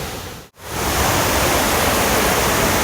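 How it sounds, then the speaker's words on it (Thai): Loud, dense roar of Mae Klang Waterfall in Doi Inthanon National Park, Chiang Mai, Thailand, steady and enveloping, briefly cut out for a moment before returning at full strength. "เขาบอกว่าเป็นน้ำตกที่สวยที่สุดของเชียงใหม่"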